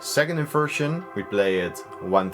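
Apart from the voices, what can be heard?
None of the usual background noises is heard.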